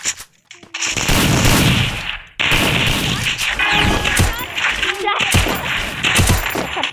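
Rapid bursts of video game gunfire crackle and pop loudly in dense volleys, with a brief break near the start and another around two seconds, played close with faint clinks mixed in.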